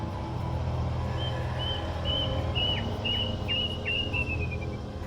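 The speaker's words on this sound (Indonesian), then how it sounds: "Sayup-sayup terdengar suara burung kedasih, menambah suasana sore itu semakin horor." A plaintive cuckoo (kedasih) calls faintly in the distance, a short series of rising whistled notes over a steady drone of insects and low background hum.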